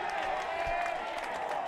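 A rugby crowd roars at a semi-final between Noosa and University, a dense, sustained wash of cheering and applause that holds steady throughout a short burst.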